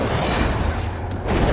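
Bombarda blast spell in the Hogwarts Legacy video game, a loud, dense rumbling explosion roar that fills the whole moment with a brief dip before surging again.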